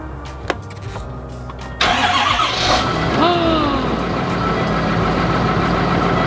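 A brief click, then a large RV engine cranks and catches in freezing weather, settling into a loud, rough idle that continues steadily up close.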